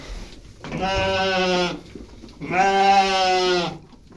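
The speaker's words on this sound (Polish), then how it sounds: "Dobra, wypuszczamy owce." Two long, wavering sheep bleats close by on a frosty farm, each lasting about a second, separated by a short pause with faint background noise.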